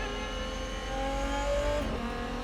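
A Gordon Murray GMA T.50s V12 engine sounds loud and close, its harmonic tone rising steadily in pitch, then dropping sharply as if on a gear change, with no talking.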